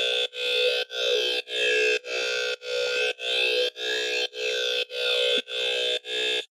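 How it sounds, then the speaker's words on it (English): Synth sound swept through the Effector plugin filter in FL Studio, played as about eleven evenly spaced sustained notes whose tone shifts and swirls as the filter moves, with no voice over them. "So if you move this thing around, it gives you like different sounds like this."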